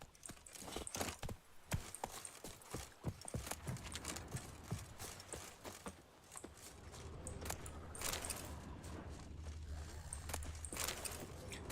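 Roach the horse's hooves clip-clop quickly and steadily as it gallops in The Witcher 3, the hoofbeats fairly close, with bits of rustling and jangling tack around them and no talking.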